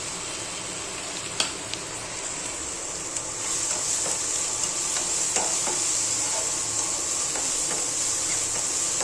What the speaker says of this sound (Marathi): आणि कशी रेड चिली, ग्रीन चिली चांगली जरा फ्राय होऊन दिली तेलामध्ये